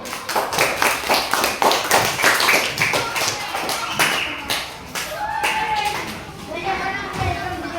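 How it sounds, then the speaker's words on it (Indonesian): Children clap their hands together at a primary school coding class, a burst of rhythmic, fairly close claps with small voices and a teacher's speech mixed in, the clapping fading as talk takes over. "Berikan tepuk tangan dulu."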